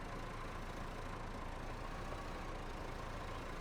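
Tractor engine in Farming Simulator 25 hums as a steady, low, fairly faint drone that holds without change throughout.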